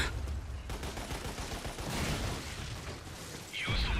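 Rapid gunfire and weapon blasts from the video game Lost Planet: Extreme Condition, a dense, steady barrage of shots with mechanical clatter and a louder burst near the end.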